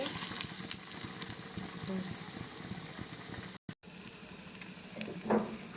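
Breadcrumb-coated egg chops frying in a pan, a steady close hiss and crackle of oil running throughout, briefly cut by a short silent gap near the end, with a faint voice.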